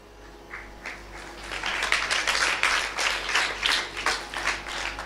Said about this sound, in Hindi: ताली वाली मत बजाओ ना